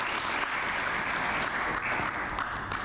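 Steady applause from a press-conference audience, dense clapping sustained and fairly close throughout with no pauses.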